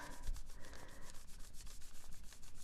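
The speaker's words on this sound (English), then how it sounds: "I'm just rubbing." Paper rubbed by hand across a paint-covered gel printing plate while pulling a masterboard print, a steady, close scratchy rubbing with repeated back-and-forth strokes and no talking.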